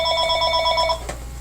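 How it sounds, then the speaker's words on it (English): A telephone rings with a bright, trilling electronic warble that repeats rapidly for about a second, then stops, leaving a low room hum and a faint click. "sorry about the phone."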